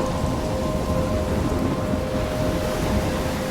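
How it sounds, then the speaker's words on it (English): Steady heavy rain with rumbling thunder fills a stormy scene in the video game Life Is Strange, a continuous loud wash of downpour without breaks. "I'm trapped in a storm."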